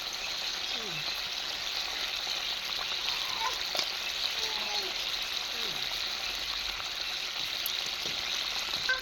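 Katla fish pieces dropped one by one into frying masala with fried potatoes, with a steady close sizzle and hiss throughout and faint voices under the cooking.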